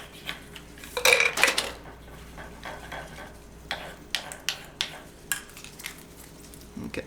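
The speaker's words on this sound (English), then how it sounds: "So I'm stirring and stirring and stirring." Utensil stirring an herbal hair color mixture into a gel in a bowl: a loud clattering burst, then a series of separate clinks and scrapes that come at a steady pace, close by, with no talk.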